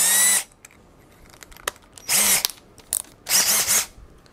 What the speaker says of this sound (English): So we're drilling out these inner holes that are gonna be the corners of the cutout for the bell of the transformer.